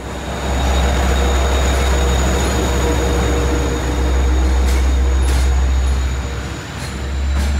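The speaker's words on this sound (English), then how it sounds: "the diesel haul train featuring a pair of DE30 ACs on each end" A Long Island Rail Road diesel train with a pair of EMD DE30AC locomotives on each end passes close by at Jamaica, producing a loud, continuous rumble of engines and rolling wheels that never lets up.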